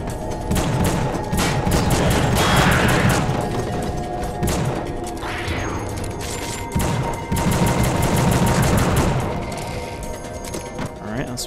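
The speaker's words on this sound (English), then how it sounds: "Not the best time to use a shotgun when they're that far away." A shotgun fires in the video game The Suffering, sending loud booming blasts at intervals over a dense, noisy game soundscape, with speech mixed in.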